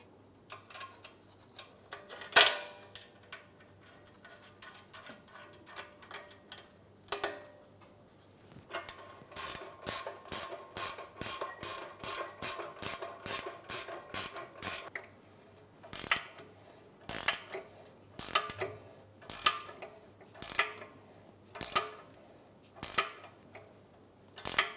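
Small metal nuts being started by hand onto exhaust bolts on the intermediate resonator pipe of a 2003-2008 Subaru Forester, heard as a run of close, sharp clicks and ticks in irregular bursts, with no talking.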